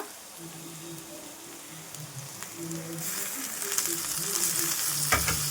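Onion and tomato fry in a pan, a steady close sizzle with light stirring clinks, growing louder and brighter in the second half with a sharp scrape near the end.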